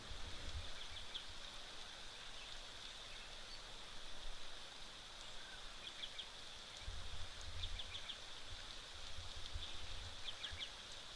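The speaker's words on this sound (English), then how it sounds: "I just wanted to take a moment there to listen to the rain" Rain falls at a waterhole in the African bush, a soft, steady hiss that continues throughout, with faint chirping birds or insects and occasional low rumbles in the background.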